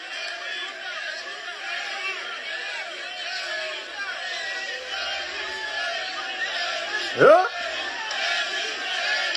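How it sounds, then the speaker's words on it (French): Crowd at a political rally for the UFDG party, a dense, continuous murmur of many voices and distant cheering, with a brief louder shout near the end and someone talking over it. "Vous voyez la foule?"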